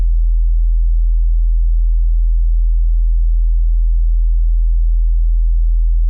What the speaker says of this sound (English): For kicks, it's usually a good idea to start with a simple sine wave.